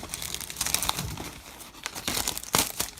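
A foil wrapper on a 2023 Topps Star Wars trading card hobby pack crinkles and tears open up close, a steady run of crackling with sharper rips near the end, no voices.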